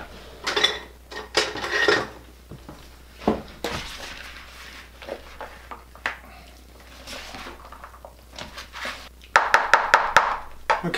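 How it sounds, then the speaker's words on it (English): A utensil stirs rabbit spaghetti with cheese in a dish, giving repeated clattering scrapes and knocks in irregular bursts. A fast run of clinks comes near the end, all close and fairly loud. "I'm going to stir all this stuff together real quick."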